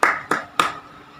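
Classroom students clapping together for all discussion groups, three sharp, evenly spaced unison claps close by, each fading quickly, followed by quiet.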